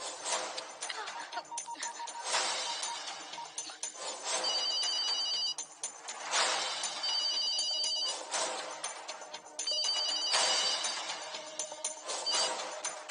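A phone ringtone plays in repeated bursts of bright electronic tones, steady and fairly loud, with short gaps between rings.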